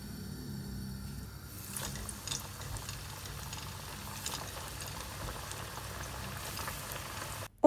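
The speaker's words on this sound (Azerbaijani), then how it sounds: "Yağ qızıb qızmamağı taxta çubuqla yoxlayırıq. Qabarcıqlar çıxırsa deməli yağ hazırdır." Hot oil bubbling in a pan as a wooden stick is dipped in to test it for frying chicken wings, a steady close, fizzing crackle running continuously with no voices.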